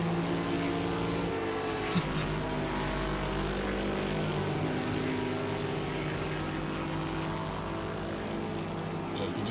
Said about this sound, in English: You can hear the distinct Bentley engine